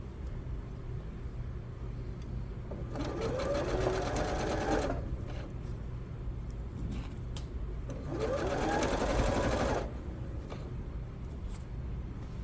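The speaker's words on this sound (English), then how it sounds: "And then you're just going to continue sewing." Home sewing machine stitching pajama pants, running in two steady bursts of about two seconds each, separated by a pause with quiet room hum.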